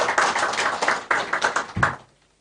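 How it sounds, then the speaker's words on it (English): A short burst of clapping from a small group, several uneven bursts of hand claps that fade out after about two seconds. "Let's clap for Embu County"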